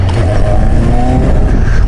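A Yamaha XJ900S Diversion motorcycle pulls hard under acceleration, a loud close engine roar with rising tones over a short burst.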